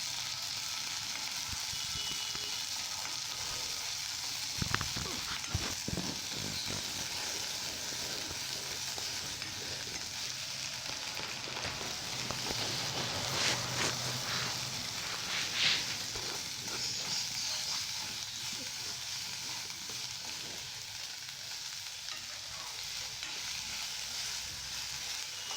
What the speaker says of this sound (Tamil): நல்லா வதக்கி விட்டுடலாம் எல்லாத்தையும்.